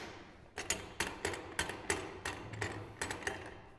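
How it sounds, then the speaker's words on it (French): A metal pipe being clamped in a bench vise for threading, heard up close as a series of about ten sharp, regularly spaced ratcheting clicks and knocks, fairly quiet with no talking. "J'attache le tuyau dans l'étau"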